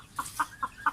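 An egg-laying hen clucks four short, evenly spaced times in under a second, close and clear against a quiet farmyard background.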